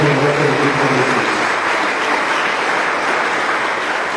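Dense applause from a church congregation, steady and sustained throughout, with no voices breaking through.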